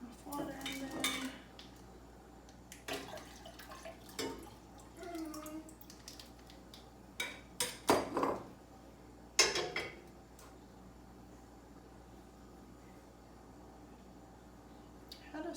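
A spoon stirring a coconut oil mixture in a pot on the stove, producing soft scattered clinks and scrapes of metal against the pot, with a few sharper knocks and a faint steady hum underneath.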